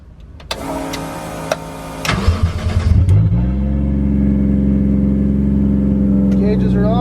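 Drift car engine starting up, cranking briefly then catching and settling into a loud, steady idle of around 1,000 RPM, close to the microphone with a few rough pulses at startup.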